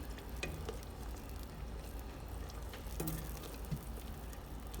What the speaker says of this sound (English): we're going to go ahead and let the onions cook until they're translucent